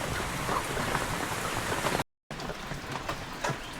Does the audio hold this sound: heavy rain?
yes